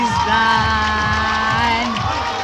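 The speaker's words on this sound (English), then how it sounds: "The crowd is in the stadium cheering for Western Cape." Stadium crowd at a schools athletics under-15 Swedish relay, cheering with loud, steady collective shouting and whoops that stay continuous throughout.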